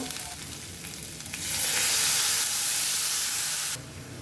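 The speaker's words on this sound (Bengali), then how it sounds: "মশলাগুলো কষানোর জন্য অল্প করে পানি দিব" Water poured into a pan of sizzling ground spices (chili, turmeric, coriander, cumin) while cooking dried fish curry, the frying hiss jumping into a loud, bright steamy sizzle for a couple of seconds before cutting back down.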